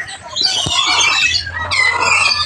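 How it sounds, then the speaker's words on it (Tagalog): An eagle gives loud, harsh squawking calls at close range in Cebu, the rough screeches running continuously with a brief break midway, with no speech over them. "The eagle."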